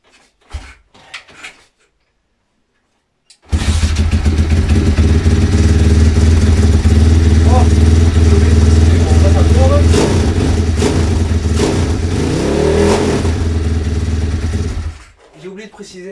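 A 160 YX small motorcycle engine, run without oil, catches after a few silent kicks and idles loudly at close range with a steady low drone, lightly revving before cutting off abruptly; brief handling noises come before and after.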